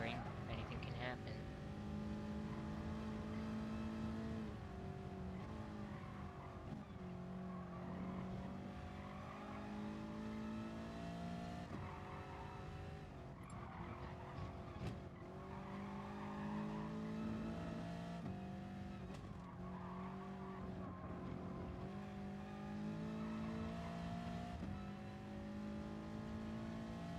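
A McLaren 650 race car in Gran Turismo Sport laps the Nürburgring in a Group 4 race, its engine droning and revving continuously with shifting pitch as it accelerates and changes gear, steady and up close.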